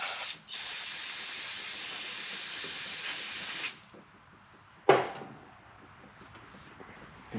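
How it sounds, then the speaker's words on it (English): A steady, loud spray hisses for several seconds against the front cylinder head of a 2004 Harley-Davidson Road King Twin Cam, then stops; a short second burst follows, fading into quiet. "I think I'll spray off this front head a little bit."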